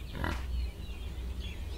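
A brief grunting pig call from the video game Under a New Sun, a short rough burst near the start followed by quieter low rumbling ambience.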